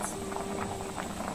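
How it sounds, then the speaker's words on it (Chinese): Bone broth boils in a pot over high heat, a steady close bubbling with soft irregular pops and patters, continuous and fairly quiet, with no voices. "开大火把它烧开"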